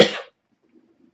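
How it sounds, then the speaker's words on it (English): A single short cough, sharp and close, followed by near silence. "Sorry for coughing."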